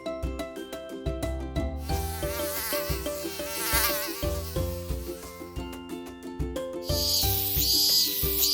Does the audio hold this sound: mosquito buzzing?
yes